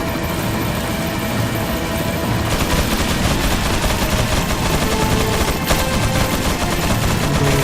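Sustained rapid gunfire hammers continuously at the player in Resident Evil 4 on Professional mode, loud, dense machine-gun bursts filling the whole stretch without pause.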